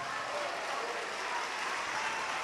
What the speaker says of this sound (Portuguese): vamos dar a melhor salva de palmas que já se ouviu em Salvador